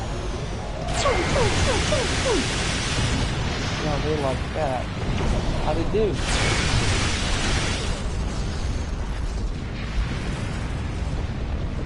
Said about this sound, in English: Firing quantum phase cannons.